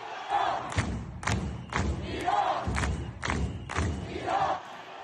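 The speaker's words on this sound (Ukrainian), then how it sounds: "Натовп скандує смерть Хаменеї і закликає повернути монархію" Crowd of protesters in Iran chanting in loud, rhythmic unison, with repeated shouted phrases and heavy thumping beats at roughly one-second intervals, close and sustained throughout.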